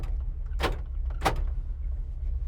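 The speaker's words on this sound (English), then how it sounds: "let's do the door locks first" Two quick mechanical clunks of the power door locks in a 1983 Chevrolet C10, about half a second apart, over a low idling engine hum.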